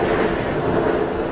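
An R32 subway train on the C line, simulated in the OpenBVE train game, rumbles steadily and loudly with a continuous rolling drone and faint wheel clatter, no voices present.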